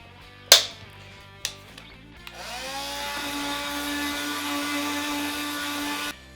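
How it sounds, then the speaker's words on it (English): A FEIN cordless 12V multi-tool with a sanding attachment starts after a few handling knocks, then holds a steady, close, high-pitched buzzing whine until it cuts off. "instead of buying a sander, you can just use your multi-tool."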